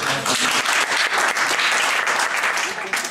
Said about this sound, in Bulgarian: аплодисменти за тези шега